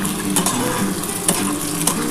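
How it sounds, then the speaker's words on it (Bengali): An egg fries in a pan for noodle preparation, a steady close sizzle with a few light clicks of a utensil against the pan. "এর মধ্যে আমি কিন্তু ডিমটা ভেজে নিচ্ছি।"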